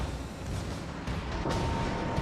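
Naval gunfire in World of Warships, a Des Moines cruiser's battle soundscape: continuous loud low rumble of distant cannon booms and explosions, with a brighter burst near the end and no speech.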